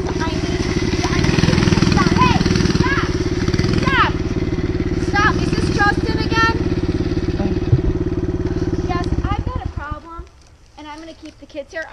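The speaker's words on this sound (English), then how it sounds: "There's no motorized vehicle supposed to be back here." A loud, steady motor drones close by as a motorized vehicle rides through a back area, running continuously before cutting out near the end, with raised voices talking over it.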